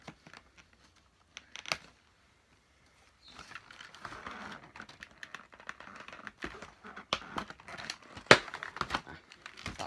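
Packaging around an eyebrow pencil is unwrapped, starting with a few quiet isolated clicks and then turning into steady close crinkling and tearing rustles that grow busier and louder toward the end.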